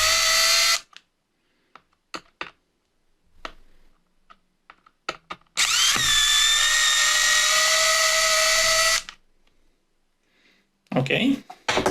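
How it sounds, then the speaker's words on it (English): Small electric screwdriver backing screws out of a Bluetooth speaker's circuit board, whirring in bursts, with a long steady whine in the middle and brief taps and handling clicks between runs. "So let's start by removing the board or the screws of this board."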